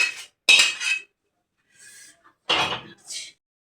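Chicken for dum chicken is mixed with fried onions in a dish, heard as a few separate close bursts of clinking and scraping utensils against the dish, with short quiet gaps between them.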